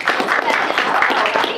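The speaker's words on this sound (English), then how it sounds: "So let's give Michelle Ruff a round of applause." Quick, busy applause from an anime convention panel audience for voice actress Michelle Ruff, a short burst of close clapping with crowd voices mixed in.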